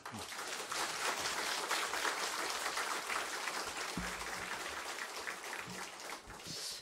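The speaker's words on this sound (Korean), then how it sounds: "나오실 때 저희가 큰 박수로 환영하겠습니다." A church congregation applauds broadly to welcome a visiting pastor at an autumn revival service, with steady, dense clapping throughout and a few faint tonal sounds underneath.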